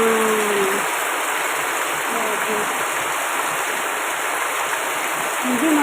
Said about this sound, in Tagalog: Biglang buhos ng ulan.